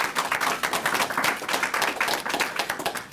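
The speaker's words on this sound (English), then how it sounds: "Let's give them a round of applause." A press conference audience gives a steady round of applause, dense overlapping hand claps at moderate loudness with no pause throughout.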